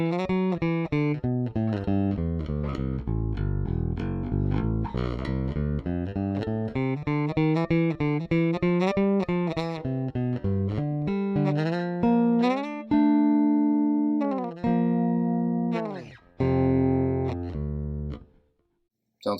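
An Ibanez Talman TMB100 PJ bass played on its bridge pickup alone rings out a sustained, gliding bass line with bright, growly overtones, loud and up close, ending on a few detached notes.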